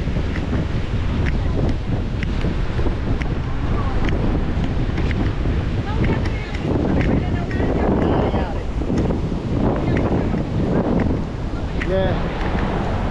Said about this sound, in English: It's a south wind.